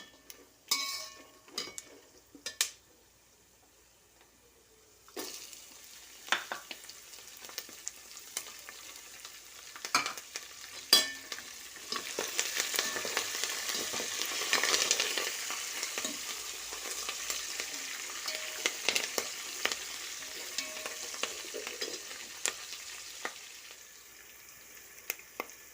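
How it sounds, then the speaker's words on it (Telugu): Green chillies and curry leaves fry in a pan with a busy, crackling sizzle, and a spoon stirs and scrapes against the metal now and then, close up and without voices. "ఎర్రవాగ్గా వేగిన తర్వాత పచ్చిమిర్చి, కరివేపాకు అన్నీ వేసుకోవటమేనండి."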